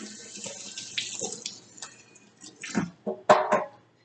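Celery stalks with the leaves pinched off being rinsed under a running kitchen tap, water splashing and spattering in uneven bursts, close and fairly clear, with no talking.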